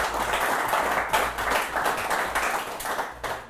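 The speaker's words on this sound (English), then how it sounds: "A round of applause to our in-studio guests from the Johannesburg chapter of the Young Presidents Organization." A studio audience applauds in a close, steady wash of clapping that swells and ebbs slightly before tapering off at the end.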